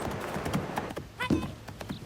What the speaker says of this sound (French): Elle essaie de soumettre ce cheval.